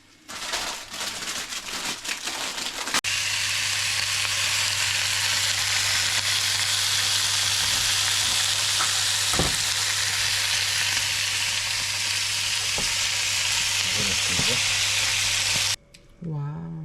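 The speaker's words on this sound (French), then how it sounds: "Ça mijote, ça mijote." Food simmers and sizzles steadily in a pan in a home kitchen, a loud continuous frying hiss with occasional crackles that runs nearly throughout, cutting off briefly near the end.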